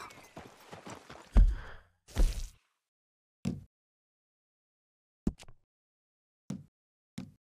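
A handful of separate horse hoof thuds in Red Dead Redemption 2 land at irregular intervals with silence between them, after a brief burst of scuffling noise at the start.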